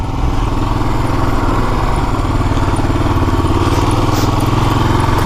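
A 2006 Kawasaki KLR 650 single-cylinder motorcycle engine runs steadily and loud throughout a ride, a continuous close throbbing drone with wind rush and no talk.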